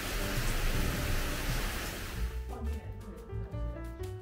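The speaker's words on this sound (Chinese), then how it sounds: "现在下雨了，变得很凉快" Rain falls at a forest guesthouse in Nantou, Taiwan, a dense, steady hiss that fills the first half and then thins to a softer patter with low rumbling underneath.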